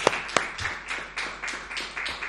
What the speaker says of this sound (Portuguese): uma grande salva de palmas àqueles que se juntaram a nós hoje